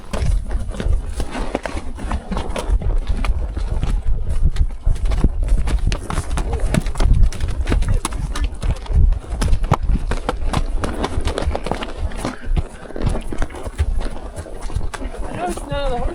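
A Mustang horse's hooves clip-clop steadily on a rough, rocky desert trail, with an irregular run of close, hard strikes and people talking over them.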